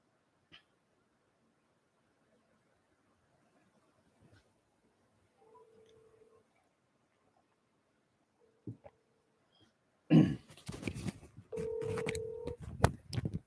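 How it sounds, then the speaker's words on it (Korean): A telephone call connects during a Korean call-in broadcast: brief electronic beeps and short steady tones separated by silence, then a louder burst of line noise with a sustained tone near the end. "네, 한번 전화를 주셔서 전화를 연결 중에 있습니다."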